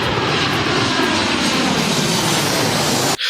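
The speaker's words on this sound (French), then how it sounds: "faut juste que je fasse décoller mon avion avec ma boîte géante" A Super Mario video game airplane takes off with a loud, steady roaring engine drone that runs almost unbroken before cutting off abruptly at the end.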